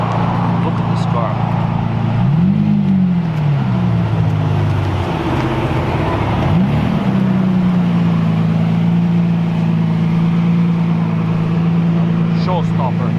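A Lamborghini Diablo SV rolls in at an outdoor Ferrari-day car gathering, its engine droning loud and close with two rising revs that settle back into a steady tone, while people talk over it.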